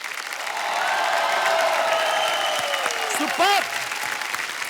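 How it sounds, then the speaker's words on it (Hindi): Studio audience applause on a Hindi TV comedy talk show, a steady broadband clapping wash that builds in and holds for several seconds, with a brief spoken word and a whoosh-like effect near the end. "एक बार जोरदार तालियां हमारे मेहमानों के लिए"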